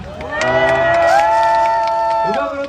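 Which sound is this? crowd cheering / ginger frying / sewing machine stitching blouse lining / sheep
crowd cheering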